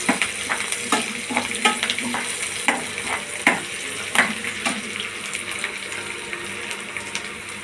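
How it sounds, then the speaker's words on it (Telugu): Garlic, onion and green chillies frying in a pan for tomato rasam: a close, steady sizzle broken by repeated sharp clicks and scrapes of a spoon stirring against the pan. "వెల్లుల్లిపాయి ఉల్లిపాయి పచ్చిమిర్చి వేసి మనం కొంచెం బ్రౌన్ కలర్ వచ్చేదాకా వేయించుకుందాం"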